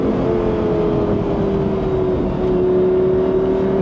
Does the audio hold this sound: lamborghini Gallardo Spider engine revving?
yes